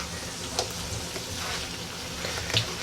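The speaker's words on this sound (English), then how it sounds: "I'm going to give it one more good stir here." Sausage, vegetables, rice and quinoa sizzle softly in a skillet as a utensil stirs through them, with a couple of light scraping clinks against the pan.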